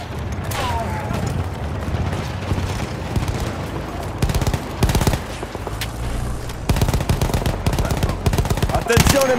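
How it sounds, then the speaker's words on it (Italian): Sustained enemy machine-gun fire in the video game Battlefield 1. Loud, dense bursts of rapid shots run throughout, with heavier bangs and battle noise layered in between. "Attenzione, mitragliatrice nemica!"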